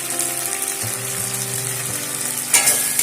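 Spices fry in goat fat in a pan of jackfruit curry with Kashmiri red chilli powder, sugar, salt and turmeric, a close steady sizzle broken by a few scraping stirs and a sharper hiss near the end.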